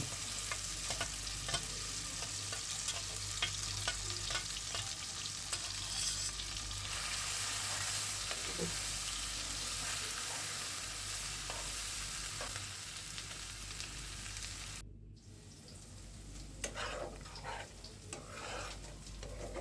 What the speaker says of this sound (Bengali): মাখানো মগজগুলো এখন আমি ছেড়ে দেব।